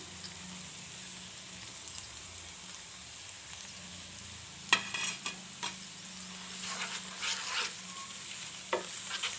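Curry leaf and green chili paste goes into a pan of softened onions for an egg curry, making a low, even sizzle, then a scattering of sharp spoon scrapes and clatters near the pan in the second half.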